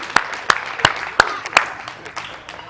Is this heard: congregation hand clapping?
yes